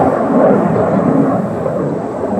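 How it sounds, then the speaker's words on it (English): Blue Angels jets pass overhead at an air show, producing a continuous heavy roar and low rumble that holds steady at high volume, with no talking. "We got airplanes coming over. We got the air show in town."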